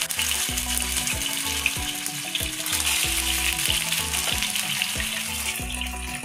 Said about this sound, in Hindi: मैं इनको यहाँ पे सेलो फ्राई कर रही हूँ, मैंने थोड़ा सा ही तेल डाला हुआ है।